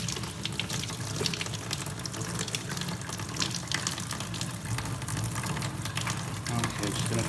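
A cleaning rag is rinsed under running tap water, giving a continuous rushing, splashing stream throughout while someone talks over it.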